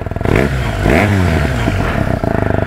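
A BMW R1250R motorcycle engine idling and revving through a loud aftermarket Remus exhaust, throaty pulsing rumble rising and falling, close up.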